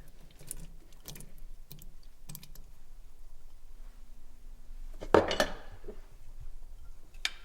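Mushrooms scraped out of a container and stirred into a simmering beef stew: a spoon clinks and scrapes against a metal pot in short, irregular bursts, with one louder rattling scrape near the end and quiet gaps between.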